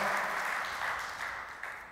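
Faint applause from a church congregation, a steady patter of clapping that slowly fades.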